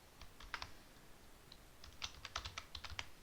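Typing on a computer keyboard while entering a spreadsheet formula, a quick irregular run of light key clicks in short bursts, close and fairly quiet with no talking.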